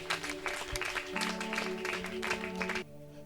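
A church congregation at a worship gathering claps and applauds for the glory of God, a steady mass of hand claps over sustained organ-like music that cuts off near the end.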